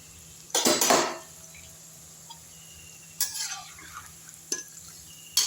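Onion pakoda in a pan of deep frying oil being stirred and lifted out with a metal utensil, giving a few sharp scraping clatters separated by quiet gaps, with a faint sizzle beneath.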